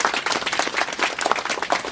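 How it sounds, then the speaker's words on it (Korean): A crowd at a ceremony marking the 38th anniversary of the June 10 democratic uprising claps together, a dense, close, lively patter of hands sustained for a couple of seconds without speech. "박수 한번 다시 해주시기 바랍니다"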